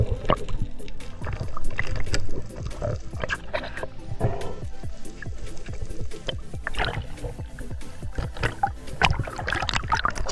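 A small fishing boat heads back out across the water in the Philippines to a new spearfishing spot. It gives a close, continuous rumble with choppy splashing and knocking throughout, and no one speaks.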